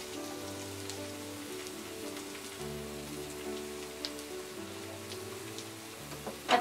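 Chopped onion, about a quarter cup, frying in hot mustard oil in a pan, a steady soft crackling hiss with scattered pops, moderately close and continuous with no talk.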